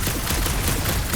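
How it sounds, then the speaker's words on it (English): Gunfire in the Guardians of the Galaxy video game: a dense, steady wash of rapid shots and battle noise at even loudness throughout, with no talk. "Shooting your way out of every problem here, Peter?"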